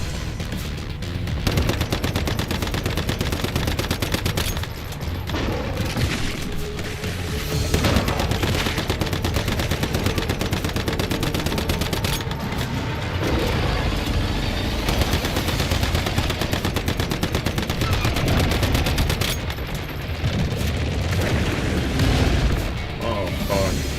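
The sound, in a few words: gunfire from the video game Once Human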